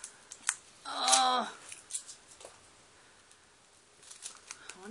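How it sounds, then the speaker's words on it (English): Packing tape peeled off a reptile shipping box, one loud ripping pull followed by small crinkles and taps, close and fairly quiet otherwise. "I'm trying to untape you. Yeah, this is taped really well."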